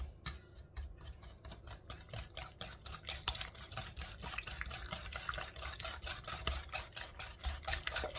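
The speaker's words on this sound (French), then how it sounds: "Je vais mélanger au fouet, ce sera mieux." Fast, even scratching strokes of a whisk beating peach tart batter in a bowl, a quick rhythmic scraping that runs steadily throughout, fairly close and alone.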